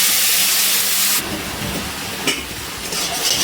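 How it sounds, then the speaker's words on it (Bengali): Ground spice paste thinned with water hisses and sizzles in hot oil over a low flame, a loud steady hiss that eases after about a second into a softer crackle with a few brief spurts. "মশলাটা আমি ভালো করে কষিয়ে নিচ্ছি।"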